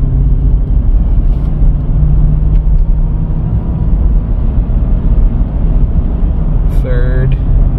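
A car fitted with a freshly rebuilt GM 4L60E automatic transmission accelerates along a highway, its steady engine and road rumble droning loud and continuous throughout, with a brief higher whine near the end.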